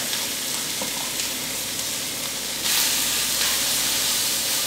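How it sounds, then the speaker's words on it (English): Filet mignon beef sears in a smoking hot pan, a loud, dense sizzling hiss that swells sharply partway through as the meat hits the oil, with faint stirring taps. "We're going to get that temperature back up and drop our beef right into the pan"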